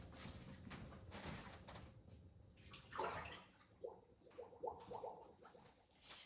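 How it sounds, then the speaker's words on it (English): Liquid from a yogurt-making bowl poured down a kitchen sink drain, a faint running and gurgling wash of water with a few soft knocks and clatters, no voices. "we're going to pour this down the drain"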